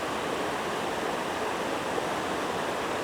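A mountain stream flows near a waterfall, making a steady, broad rushing hiss that stays constant and fairly close throughout.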